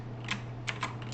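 A computer keyboard clicks four times in quick succession, light and close, over a steady low electrical hum.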